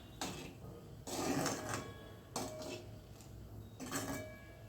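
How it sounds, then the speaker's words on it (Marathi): A spoon scrapes and clinks against a pot of sweet potato kheer in several quiet bursts, a close, soft stirring rhythm with pauses between strokes. "आणि याला आपण व्यवस्थित असं हलवून घेऊयात."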